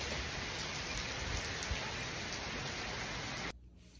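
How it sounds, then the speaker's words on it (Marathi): Steady, dense rain pours continuously as storm Debby passes, a loud even hiss that cuts off abruptly near the end. "त्यावेळेस फक्त असा अखंड पाऊस पडतो"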